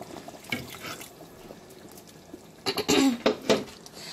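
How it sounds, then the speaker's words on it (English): A cup of water splashes and pours into a cooking pot of cassava leaves in a short burst, preceded by faint clinks and handling noises. "I'm going to add another cup of water."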